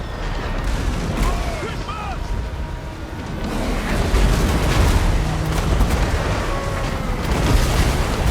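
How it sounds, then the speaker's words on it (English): Mortar teams and Hell Cannons fire across a crowded Warhammer 3v3 multiplayer battle, with continuous rumbling booms and dense, layered distant blasts under ongoing battle noise. "you already see the mortar teams and Hell Cannons still going off"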